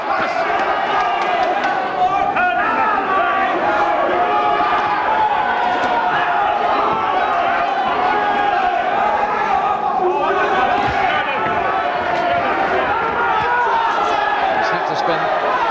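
Boxing crowd at a fight between Charles Shepherd and Matt Brown, a steady roar of cheering and applause filling the arena, dense and continuous throughout with commentary voices over it.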